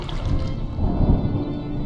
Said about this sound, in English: Was that thunder?